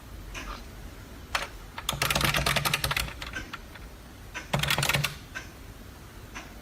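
Clicky computer keyboard being typed on, a retro CoCo setup: two quick bursts of rapid, crisp keystrokes with scattered single clicks around them, close and alone.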